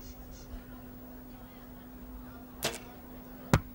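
An archery arrow strikes the target on the first arrow of the last end at a World Cup competition, heard as two sharp impact cracks, one near 2.6 seconds and one brighter hit near 3.5 seconds, over a faint steady hum.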